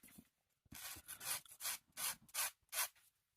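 400 grit sandpaper rubbed on a plastic model kit part to remove a sprue connection point, a series of about seven soft, close, rhythmic scratchy strokes with short pauses between them.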